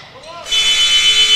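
A loud, steady electronic buzzer sounds at the end of a half in a boys' varsity high school basketball game, a sustained blaring tone that cuts in after a commentator's voice.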